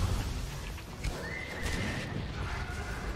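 Kirin, the horse-like monster in Monster Hunter World Iceborne, gives a thin high whinny over a noisy game soundscape with hoof-like clopping, moderately loud and fairly close, with no talk.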